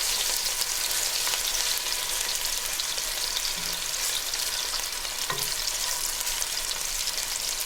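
Beef stew meat browns in a pan with a loud, continuous hiss of frying fat, broken by a couple of faint clinks.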